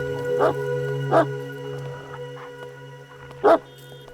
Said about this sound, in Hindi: ये सर का कुत्ता है ना? हाँ साहब। क्लास में तो बिल्कुल शांत रहता है, यहाँ क्यों चिल्ला रहा है?